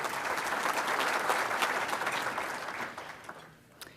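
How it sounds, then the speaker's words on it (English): A large audience of nearly 500 applauds Thelma at a State of the County event. The steady, dense clapping fades toward the end, leaving a few isolated claps. "Let's give Thelma a round of applause."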